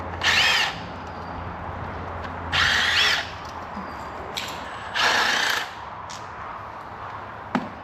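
Power tool spinning bolts out of the cover on a Kodiak 700 that has been leaking oil: three whirring bursts of about half a second to a second each, separated by pauses, with a sharp click near the end.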